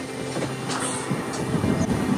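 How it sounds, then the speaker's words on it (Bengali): A train rolls into Ranchi station with a low rumbling drone of wheels and carriages, heard close and steady over a brief stretch. "আর আমাদের ট্রেন ঢুকছে রাঁচি স্টেশন।"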